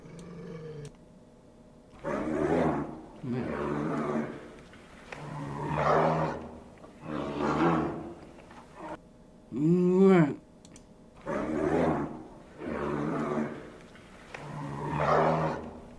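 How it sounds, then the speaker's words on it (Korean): A series of deep, drawn-out roars, about eight in steady succession with short gaps, loud and close with no talking. "이건 진짜 곰 소리 같다"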